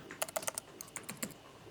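A name and email are typed on a computer keyboard, a quick run of soft, close key clicks in uneven bursts, quiet and alone.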